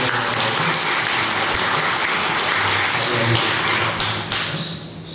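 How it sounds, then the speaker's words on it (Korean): A congregation at a Sunday church service applauds to welcome visitors: loud, dense, sustained clapping from many people filling the room, thinning and fading out in the final second. "주님의 이름으로 환영하는 박수 축복하겠습니다"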